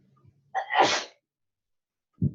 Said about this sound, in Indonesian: di sini ada orang yang lagi bersin-bersin